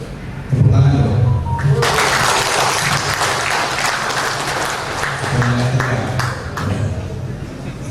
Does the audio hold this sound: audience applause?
yes